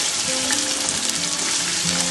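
Garlic and ginger sizzle vigorously in hot oil for a beef pickle, a dense, steady crackling fry with faint stirring, close and continuous.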